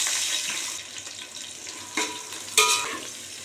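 Steady frying hiss of onions in a pan, with a couple of sharper scraping stirs partway through; no voices.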